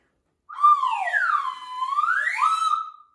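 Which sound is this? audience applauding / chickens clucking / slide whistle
slide whistle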